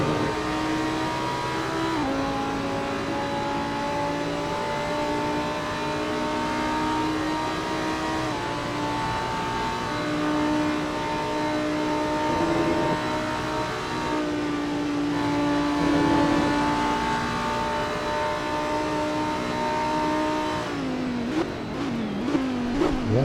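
Lamborghini and Volkswagen-powered Bentley GT race cars at Spa, heard from on board the Lamborghini, with a loud, steady engine roar climbing through rising gear-change sweeps and a quick burst of shifts near the end.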